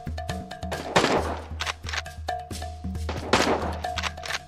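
Gunshots in the hunting game American Marksman, several sharp reports spaced a second or two apart over a low steady game hum, with no talk.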